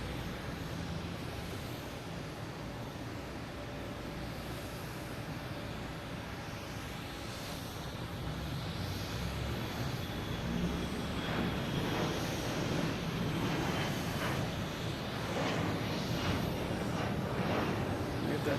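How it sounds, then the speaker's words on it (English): A Delta Airbus A220 jet arrives at Boston Logan Airport, a broad steady engine roar that slowly swells louder as it approaches, with wind buffeting the microphone throughout. "We have a Delta A220 coming in from Raleigh-Durham"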